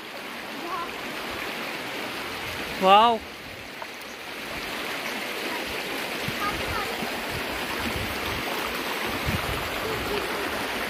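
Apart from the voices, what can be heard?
river water flowing and swirling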